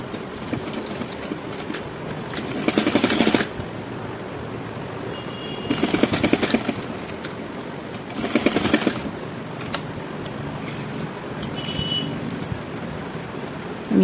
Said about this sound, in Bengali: ঠিক এইটুকুনি আমি সেলাই দিয়ে জয়েন করে দেবো।